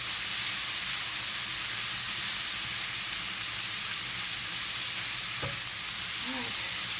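Breakfast sizzles steadily in a hot pan as it is stirred, a dense, even frying hiss throughout with a faint scrape or two near the end, no voices.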